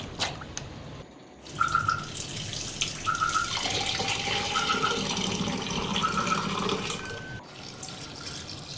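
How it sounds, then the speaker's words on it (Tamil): Tap water runs steadily into a sink as dry pasta is rinsed for a vegetable pasta dish, a continuous hiss and splash with brief higher tones, after a short pause near the start. "நல்லா கழுவிப்போம் பாஸ்தாவை."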